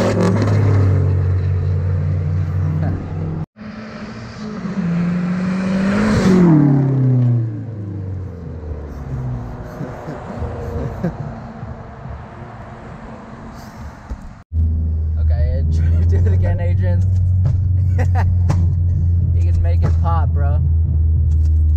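A turbocharged Mazdaspeed car with a boost leak revs and pulls away, its engine note rising and sweeping past, then a steady low rumble of idling engines resumes nearby, with people talking throughout.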